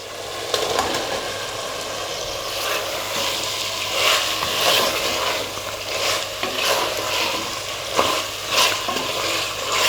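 Mutton pieces are stirred into a curd-based biryani mixture in a pot, a continuous close churn with repeated scraping strokes over a soft sizzle.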